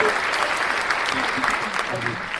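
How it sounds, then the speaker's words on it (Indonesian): A room full of people applauding steadily, a dense wash of clapping with faint voices mixed in. "Boleh tepuk tangan dong"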